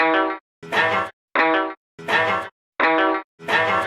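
Stratocaster electric guitar on the bridge pickup, tuned down a full step, playing a lick of six bright, twangy phrases, each about half a second long with short gaps between them, loud and close with no talking.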